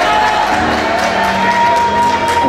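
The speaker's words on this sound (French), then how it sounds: "Applaudissements pour Charlotte." A crowd at the Miss Oise 2021 pageant fills the room with steady applause and cheering, dense and loud throughout with scattered whoops and shouts.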